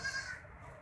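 Goat at a goat market giving a brief, faint bleat, with a low bustle of the market underneath.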